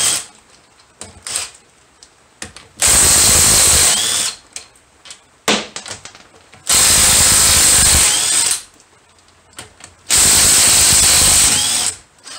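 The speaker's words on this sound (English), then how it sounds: "Okay, got a good battery in the cordless impact now." Cordless impact wrench working on the wheels of a C4 Corvette, three loud sustained bursts of rattling whir of one to two seconds each, separated by quiet gaps with a few short clicks and blips.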